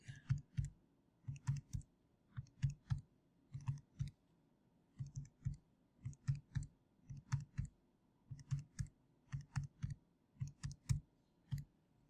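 Numbers are keyed into a calculator keypad as quick bursts of soft, close button clicks in irregular groups, separated by short pauses.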